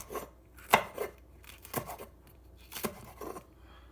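A knife chops peppers and onion on a cutting board for curry chicken, with a few sharp, irregular cutting knocks, close and fairly quiet, with no talk.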